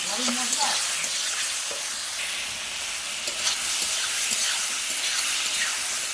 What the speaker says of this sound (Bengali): এবার আমি দিয়ে দেবো ওটা আলু আর পটলটা দিয়ে ভালো করে কষিয়ে নেবো ওর সাথে।